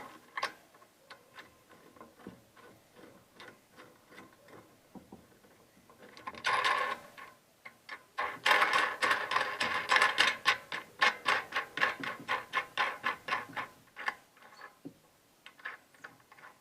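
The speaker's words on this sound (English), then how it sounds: "Then just take a wrench, tighten it down." A wrench tightening a nut on a bolt for a grill riser, giving a steady run of quick metallic ratcheting clicks that grows louder and denser midway, close and crisp with no talk.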